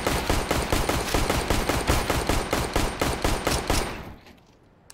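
Rapid automatic gunfire from the Counter-Strike game, a loud, steady burst of closely spaced shots lasting about four seconds before cutting off into near silence.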